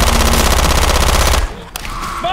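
Rapid automatic gunfire rattles loud and close in Left 4 Dead 2 for over a second, then cuts off, leaving a brief faint tail of game sounds.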